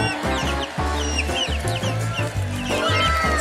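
Several chickens cluck and chatter continuously, close and fairly loud, with rapid overlapping calls and short squawks and no talking.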